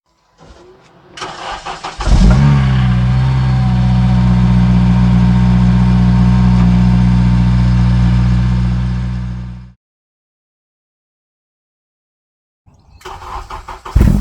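Honda Civic Type R FN2 engine cranking and catching on a cold start, then settling into a loud, steady idle for about seven seconds before cutting off to silence, with a brief burst of noise near the end.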